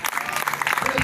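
An evangelical campaign congregation in Buenaventura breaks into steady, dense applause that fills the whole moment, with voices mixed into the clapping.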